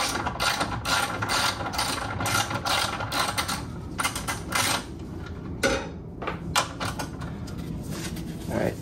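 Rapid ratchet clicking comes from loosening a coilover shock bolt on an Acura RSX Type S, close and crisp in quick runs with brief pauses and a few metallic clanks, and talk mixed in.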